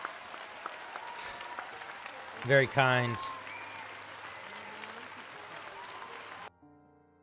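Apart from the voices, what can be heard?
applause for a new member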